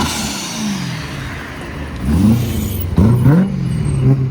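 A supercharged 750 hp BMW E90 M3 drives through grass, its engine droning steadily and then revving up in several rising surges near the end, close and fairly loud.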